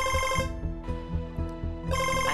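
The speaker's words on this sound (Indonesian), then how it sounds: "baru mau di-chat Nak Lingga udah telepon." A telephone rings with an incoming call in a drama scene, a repeating bell-like tone in two bursts separated by a short gap, loud and close with no talk over it.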